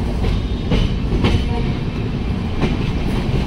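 A train rolling along the tracks near Tinsukia, heard from on board as a loud, steady rumble with rhythmic clickety-clack of the wheels and no talking.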